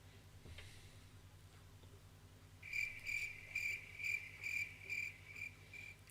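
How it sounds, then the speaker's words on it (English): A cricket chirping sound effect played by a chat bot during a live stream sounds as a series of about seven shrill, evenly spaced pulses after a quiet start, clear against a low background hum. "That was meant to be the cricket's noise"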